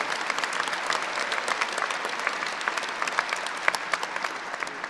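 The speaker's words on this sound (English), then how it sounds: "Give yourselves a big round of applause, the students and the graduates here today." Graduates and guests applauding at the University of Iowa Tippie College of Business commencement, a dense, sustained crackle of many hands clapping in a large crowd, steady for the whole stretch.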